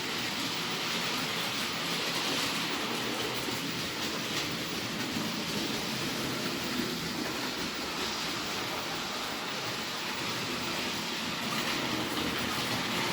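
A model train set with a fictional-livery steam shunter and a Freightliner Class 66 runs on its track, giving a steady, continuous rolling rumble and faint clatter, close and unchanging for the whole stretch with no voices.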